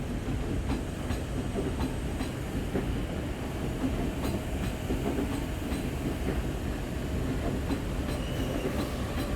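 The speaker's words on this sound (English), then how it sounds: "K-set K79 clunks along, coupled with K76, which I caught" A Sydney K-set silver suburban train, K79 coupled with K76, clunks past close by with steady rumbling and rhythmic clickety-clack of wheels over rail joints, the noise holding loud and even throughout.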